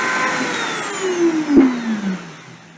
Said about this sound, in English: Turning the spindle on.